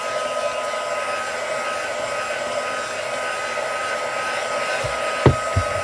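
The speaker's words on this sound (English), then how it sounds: "I'm just going to heat set it. So start to dry all that off." A handheld craft heat tool blows hot air to dry and heat-set ink on a papercraft piece, making a loud, steady, close whirring rush that runs throughout, with a couple of soft knocks near the end.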